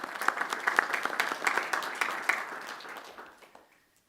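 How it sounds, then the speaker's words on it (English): Applause from the audience at a township council business meeting, a dense round of clapping that holds steady for a few seconds and then thins out and fades away to silence. "A round of applause, please, for Mr. Brock."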